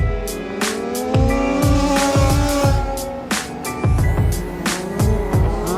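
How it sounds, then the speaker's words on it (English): Several 1/5 scale four-wheel drive RC mini cars race closely on a track, their small engines buzzing and whining in rising and falling pitch as they pass one after another, loud and continuous. "See these four-wheel drive minis get some great close racing."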